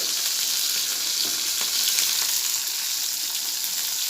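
Chillies and onion fry in a pan with a steady, close hissing sizzle that holds evenly throughout, with faint occasional stirring and no voices.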